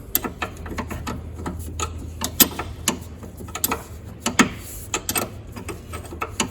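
A wrench working an 11mm bolt on the fuel filter of a Bobcat 743 skid steer, a close steady run of sharp metallic ratchet clicks at an uneven rhythm over a low hum.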